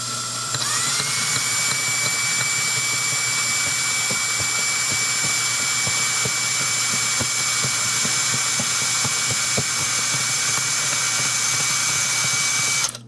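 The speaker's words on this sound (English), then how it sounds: "And then I can just use this drill driver here to" A drill driver feeds a wall anchor into a wall, running as a steady, loud, high-pitched whine for about twelve seconds before stopping abruptly, with no talking.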